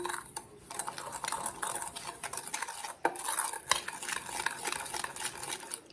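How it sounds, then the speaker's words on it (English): A utensil scrapes and clinks briskly against a bowl as apple pie spice, sugar and cornstarch are stirred together for an apple crisp, in quick, close, rhythmic strokes. "We're going to take it, stir it up together"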